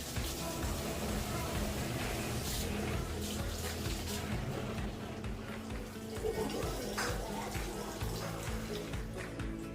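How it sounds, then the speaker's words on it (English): Water pours steadily from a bottle filled at the top, used to refill outdoor guppy fish tubs in hot summer weather; a continuous, fairly loud splashing and gurgling rush runs throughout with no pauses. "I'm using an empty bottle and fill up with water from the top."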